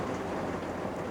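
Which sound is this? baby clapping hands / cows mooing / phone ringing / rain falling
rain falling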